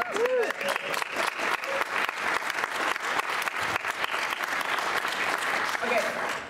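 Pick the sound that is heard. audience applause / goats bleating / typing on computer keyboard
audience applause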